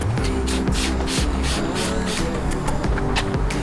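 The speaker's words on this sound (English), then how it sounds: "spray your glass cleaner into the towel" Glass cleaner is sprayed from a trigger bottle into a towel, a series of short hissing spray bursts over a steady background drone, fairly close with no voices.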